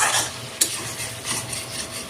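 Pigeon meat curry stirred in a pan, close scraping and sizzling with one sharp metallic clink of the spoon against the pot early on, steady and without talk.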